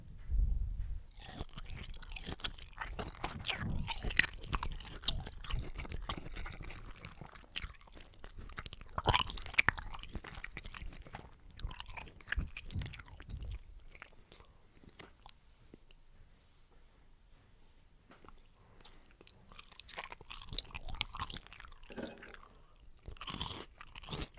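Pork and cheese being chewed close to the mic at a New Year's Eve dinner, with repeated soft crunches and mouth sounds across the clip, and a few quieter stretches in between.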